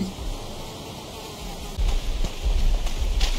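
A fly buzzes in a video game, a thin persistent drone over noisy game sound that grows louder with low thumps partway through.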